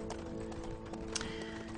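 Horse hooves clip-clopping in a Lego Lord of the Rings video game, with steady soft hoofbeats under dense game music and background noise, a faint voice occasionally present.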